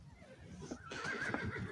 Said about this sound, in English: And the horse is complaining.